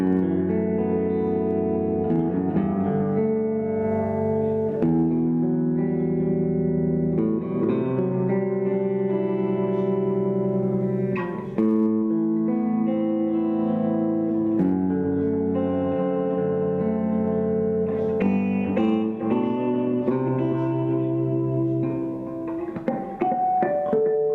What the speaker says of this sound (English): one of the cool things about this delay is it has a modulation